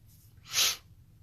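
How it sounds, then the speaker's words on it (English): A single congested sniffle from someone with a cold, a short wet nasal burst swelling and fading within half a second, close and fairly quiet over low room hum. "Y'all have to pardon me on my sniffling."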